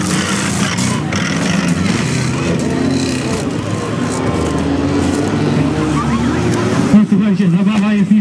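Rally cars, including a boxer-engined four-wheel-drive car, a small Fiesta and an Omega, race on a dirt stage at an amateur demolition rally in Biała Podlaska; steady loud engine roar fills the whole stretch, with a commentator talking over it.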